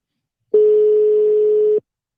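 A single steady electronic tone sounds on an outgoing phone call, holding loud and unbroken for just over a second before cutting off, with silence on either side.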